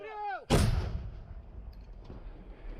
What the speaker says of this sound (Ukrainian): Постріл був!